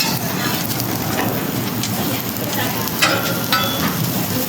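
Food sizzles on a Blackstone griddle cooked with no oil or butter, a steady, close frying hiss that runs without pause, with occasional scrapes and clicks as pieces are moved around.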